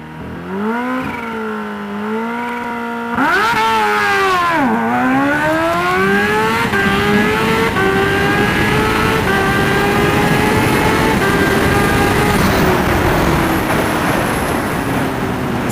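A turbocharged GSX-R 750 motorcycle on a drag-strip hot lap: a short rev, then one long, loud, close pull as the engine note climbs steadily and roars on without a break.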